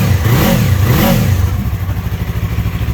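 A 2015 Yamaha YZF R3 motorcycle fitted with a Coffman exhaust revs loudly up close, two rising throttle blips with a gruff, grunting tone before settling into a steady, throbbing idle.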